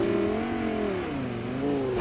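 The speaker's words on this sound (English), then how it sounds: "get in that car, and right off the bat I'm going to zoom out of there" Car in the game Fortnite pulling away at speed, its engine revving in a steady, wavering drone that rises and dips over two seconds with no talk.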